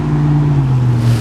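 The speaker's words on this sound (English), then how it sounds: "This road is very noisy." Steady road traffic rumble from a nearby busy road behind a backyard game trail, a continuous low drone with a car passing, filling the short stretch without any voices.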